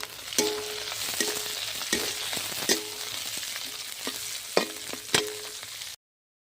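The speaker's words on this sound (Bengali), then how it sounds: "এবার দেবো কাঁচা লঙ্কা।" Green chillies crackle in hot oil with cumin and dried red chilli, a steady close sizzle punctuated every second or so by sharp spatula knocks against the pan, then abrupt silence.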